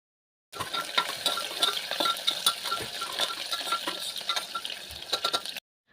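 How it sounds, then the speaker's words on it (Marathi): Sliced onion with cumin and curry leaves is sautéed in hot oil, a bright, constant close sizzle with small metallic stirring clinks scattered through it, starting suddenly and cutting off at the end. "त्यासोबत कढीपत्ता आणि उभा चिरलेला कांदा होता तो सुद्धा टाकून घेणार आहे आणि छानपैकी कांदा परतून घेणार आहे"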